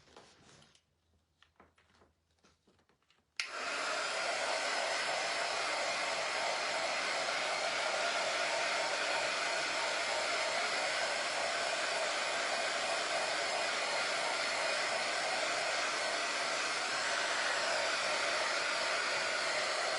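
A hair dryer switches on abruptly after a few seconds of quiet shuffling and then blows loudly and steadily, close by, drying a freshly worked surface before sanding.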